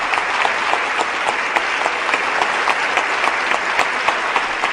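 Loud, sustained applause from a crowd during the Connecticut governor's budget address, dense and unbroken for several seconds with individual claps standing out, no voices on top.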